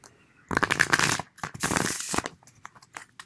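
Two short bursts of riffling tarot card shuffles, close and crisp, followed by a few soft taps and slides.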